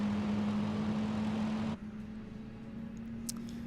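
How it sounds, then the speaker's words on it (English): Airliner engines spool up during a shared-cockpit Air France departure in Microsoft Flight Simulator 2020 from London Stansted to Amsterdam: a steady low hum and broad roar that drops abruptly halfway, then continues quieter with a faint whine. "So both engines are starting up nicely."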